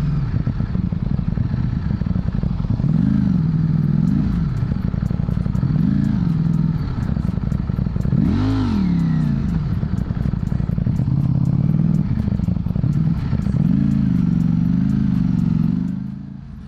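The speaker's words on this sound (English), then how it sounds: "The engine has a big capacity. You can hear it together with the exhaust that's hammering the ground." A Ducati Streetfighter V4 motorcycle engine idles loudly and continuously, with deep exhaust thumping and several blips of revving throttle, close by.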